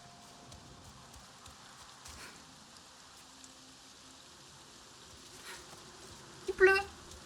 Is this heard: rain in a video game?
yes